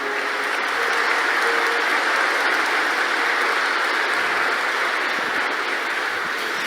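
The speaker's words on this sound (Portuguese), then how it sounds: "A Ele uma salva de palmas." Sustained applause from a church congregation after a sermon line, dense and steady throughout with no break, heard at close to moderate distance with no voices on top.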